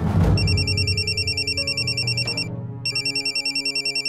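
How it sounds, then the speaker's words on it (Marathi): A mobile phone rings with an incoming call, a loud repeating electronic ringtone melody in rapid pulses, briefly pausing before resuming. "कोणाचा फोन आहे बघ?"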